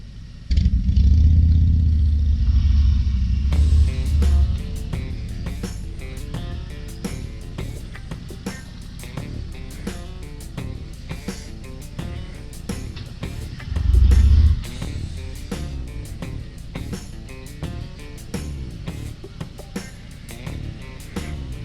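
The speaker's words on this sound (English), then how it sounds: "Such a great sound to this bike. I love the exhaust." A 2023 Harley-Davidson Road Glide Special motorcycle rumbles loudly while being ridden, its deep exhaust note steady with a louder throttle surge partway through, close and alone with no talking.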